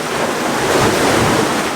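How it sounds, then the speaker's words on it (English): Ocean waves crash against rocks near a small coastal cave, a loud, continuous roar of surf with wind buffeting close to the microphone. "trying to capture the waves as they're kind of crashing up here"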